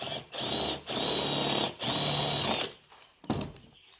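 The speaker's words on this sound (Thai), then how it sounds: "เจาะไปทีละหน่อยนะผมลองก่อนว่าได้ไหม" A drill bit boring into an empty spray paint can, a loud steady whirring grind in three bursts with brief pauses, followed by quieter scraping and a short knock.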